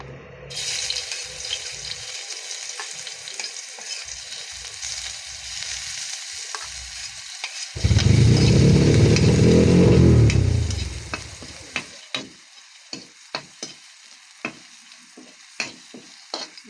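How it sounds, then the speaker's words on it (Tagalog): Garlic sautéing in a pan for pancit bato, a steady sizzle with scraping stirs, then a loud rush of hissing as something hits the hot oil, fading into sparse crackles and taps. "magigisa lang tayo ng"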